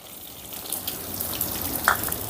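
Cumin, curry leaves, sliced onion and green chilies fry in hot oil, producing a soft, continuous sizzle with a brief sharper crackle or spatter near the end and no talking.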